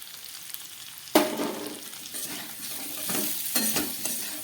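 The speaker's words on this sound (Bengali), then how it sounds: "খুব ভালোভাবে মশলা দিয়ে আমার ফুলকপি আলুটাকে কষানো হয়ে গেল।" Cauliflower and potatoes stir-fried with spices and ground black pepper in a pan, a steady close sizzle with a sharp clatter of stirring near the start and further scraping stirs later, no voices.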